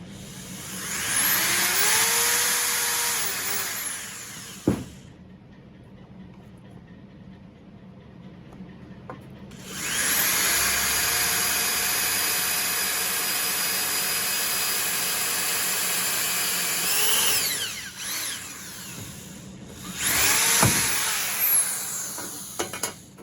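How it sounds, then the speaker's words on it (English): A power drill whirs in three separate bursts, each spinning up to a steady whine and winding down, with quiet pauses between. "I'm going to try to drill as close as I can to the center."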